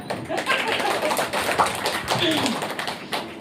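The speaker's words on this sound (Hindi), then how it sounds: "अपने लिए तालियां तालियां।" Children at a summer camp finale clap for themselves, a dense patter of quick overlapping claps running throughout, with voices chattering underneath.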